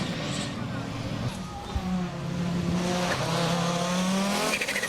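A heavy Group B rally car roars along with a sustained engine note and tire squeal as it skids, the sound steady and fairly loud from start to finish.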